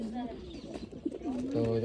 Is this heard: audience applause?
no